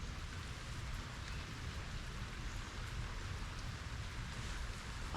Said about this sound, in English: I was working in here on this because it's raining out there.